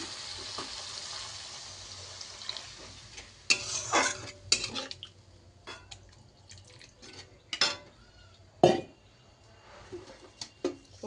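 Masala stir-fries in oil in a pan, with a low continuous sizzle broken by sharp intermittent scrapes and clanks of a spoon against the metal, loud and close, with no talking.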